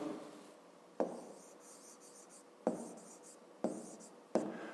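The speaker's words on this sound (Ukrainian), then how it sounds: "Тоді записуємо числа." Numbers written by hand for a fifth-grade maths exercise: a quiet pen scratching across paper in short strokes, with four sharp taps as the pen meets the page, close and alone.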